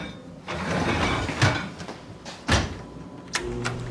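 An empty dishwasher is opened, making rattling mechanical clatter with a couple of sharp knocks and clunks as the door and racks move, fairly close, with no talk.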